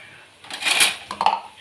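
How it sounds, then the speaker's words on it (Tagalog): A metal cooking pan clatters and scrapes briefly while chicken feet are stirred, two quick bright metallic rattles up close. "mas malakas pa yung ingay ng kawali kaysa boses ko"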